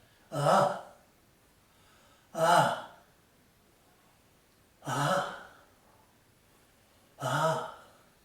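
Four forceful breathy exhales, each a short loud burst about two seconds apart, with near silence between them.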